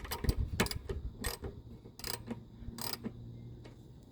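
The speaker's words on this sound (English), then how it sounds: "Do the resistance test on your ratchet again. So we're going to go tighten now." A socket ratchet tightens a carburetor bolt on a lawn mower. Its clicks come in short bursts of several ticks, close and moderately loud, with faint mechanical clatter between them and no talking.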